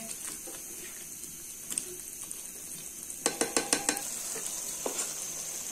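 Steady sizzling of qeema gobi curry in a pressure cooker pot under repeated scraping strokes of a spoon, with a quick run of sharp metallic taps near the middle.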